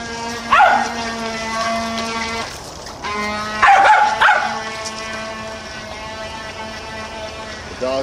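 A dog barks in a few short bursts, close and fairly loud, over a constant droning whine from a radio-controlled racer's motor.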